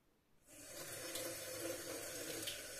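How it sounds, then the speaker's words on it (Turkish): A kitchen or bathroom tap opens and water runs steadily into a sink for rinsing contact lenses, a close continuous splashing hiss that starts abruptly and keeps going. "Şu lenslerimi bir yıkayayım."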